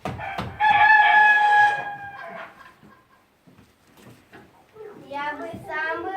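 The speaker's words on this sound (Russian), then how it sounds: "Здесь живут петух и курица." A rooster crows in one loud sustained call, followed by quieter hen clucks and cackling, with a voice narrating in Russian in between.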